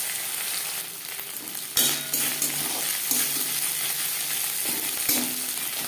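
Curry leaves dropped into hot oil with crushed garlic for kadhi pakora, a loud, steady frying sizzle with a few sharp pops and stirring clinks of a pan.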